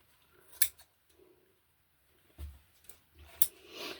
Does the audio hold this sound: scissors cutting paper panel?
yes